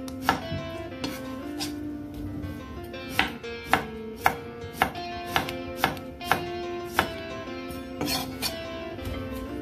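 Knife chopping salad ingredients such as lettuce and onion on a board for a Mexican salad, a series of crisp, irregular cuts that quicken into a steady run in the middle, close by, with a faint tonal hum underneath.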